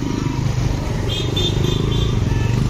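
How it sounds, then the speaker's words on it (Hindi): A TVS Raider motorcycle engine idles and revs nearby during a test drive at a service stop, a loud, steady low throbbing with faint higher whines over it. "और अभी भाई टेस्ट ड्राइव ले रहा है बाइक की"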